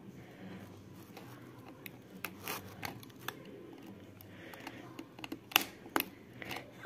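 Scissors snip through the plastic packaging of a Nerf Fang QS-4 blaster, giving a scattered series of sharp close cuts and clicks that cluster more densely near the end, with no talking.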